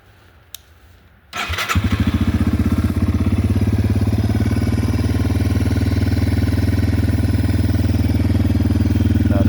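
Yamaha TW200 motorcycle, freshly valve- and carb-adjusted, cranks briefly after a quiet moment, catches, and settles into a loud, steady, close-up idle thump with no talk.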